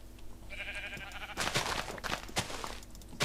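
In modded Minecraft, sheep let out several loud, close bleats in quick succession over a soft game backdrop.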